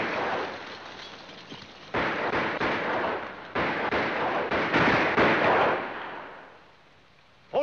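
Gunfire in a 1951 frontier film: a dense, continuous roar of rifle shots and booming volleys that rises and falls steadily for several seconds, then fades away, with no voices heard.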